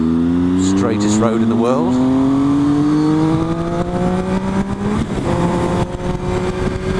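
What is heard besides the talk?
car accelerating to overtake on a country road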